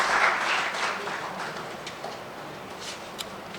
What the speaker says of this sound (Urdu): ہم بھرپور تالیوں میں آپ کا خراج تحسین پیش کرتے ہیں